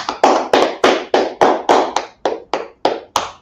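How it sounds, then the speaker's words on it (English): Evenly spaced rhythmic claps, about ten sharp hand claps in a steady beat, close and loud, with no talking, as an audience claps on cue. "Clap it up."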